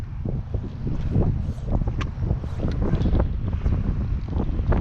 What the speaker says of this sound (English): The wind will blow my pants off.